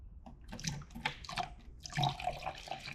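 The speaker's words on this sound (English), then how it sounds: "Now we'll add 4 times that in distilled water." Distilled water is poured into a cleaning solution in irregular bursts, with splashing and trickling sounds and a short pause in the middle. The pouring is close and fairly quiet.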